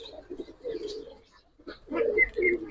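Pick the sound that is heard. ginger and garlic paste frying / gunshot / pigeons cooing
pigeons cooing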